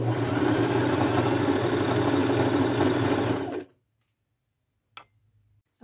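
A sewing machine stitches a sweatshirt hem with a fast, steady motor whir for about three and a half seconds, then stops abruptly, followed by a couple of faint clicks.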